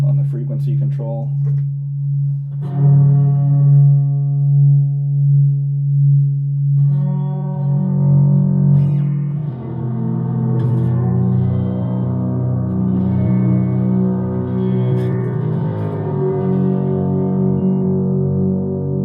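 Guitar run through a Rossum Panharmonium with an LFO sweeping its frequency control: a low sustained tone gives way to a wobbling, shimmering, reverb-soaked texture that thickens and swells, loud and continuous with no talking.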